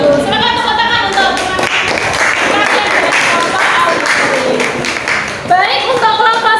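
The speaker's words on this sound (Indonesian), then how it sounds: "Silakan tepuk tangan untuk" A group at an academic supervision coaching session claps together in dense, sustained applause, with some voices and tonal sounds mixed in, loud and close throughout.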